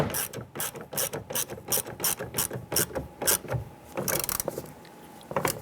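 A hand ratchet tightens the rear exterior door handle fastener on a 2002-2008 Dodge Ram 1500, a close, loud run of rhythmic clicking strokes that pauses briefly and then resumes.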